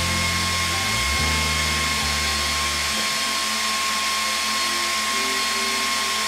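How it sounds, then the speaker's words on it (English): An Endurance 10 watt PLUS laser engraver with TEC cooling runs steadily, its whirring fan and turbine drone filling the whole stretch at an even level, with a shifting low hum near the start and no talk. "let's start the laser. Wow, it's going very very quickly."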